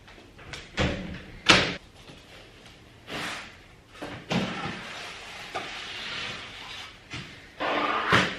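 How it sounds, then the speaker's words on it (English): A household door is shut at home, with several knocks and thumps as it is handled and pushed closed, one bang sharper than the rest, close by amid room noise. "I gotta shut this door"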